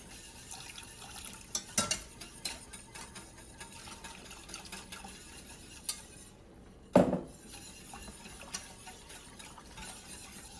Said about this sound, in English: Stir it in so it doesn't clump up